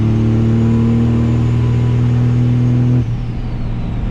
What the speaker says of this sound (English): Give this passerby some turbo sounds.